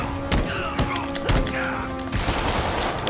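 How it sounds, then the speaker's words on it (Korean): Cannon fire in Marvel's Spider-Man on PS4, a run of sharp booming blasts in quick succession with thuds and game effects between them. "그거 대포야. 그 총이 아니야."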